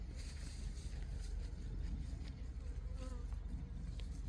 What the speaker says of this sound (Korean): 새카만 모기들이 막 모기 많다 새카만 모기가